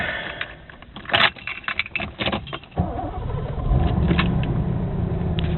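Clicks and a jingle of keys come first, then the engine of a Mercedes-Benz 560SEL catches and settles into a loud, steady idle rumble close by.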